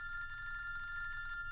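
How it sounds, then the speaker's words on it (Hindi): A telephone rings close and clear in a steady electronic trill, one continuous ring lasting over a second before it cuts off. "फोन उठा, मेरा फोन उठा।"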